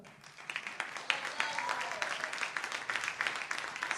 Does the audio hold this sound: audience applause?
yes